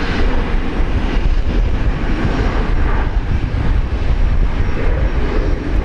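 An airliner taxiing at Brisbane Airport gives a loud, steady engine roar with a dense rumble that holds at an even level throughout, close by and with no voices.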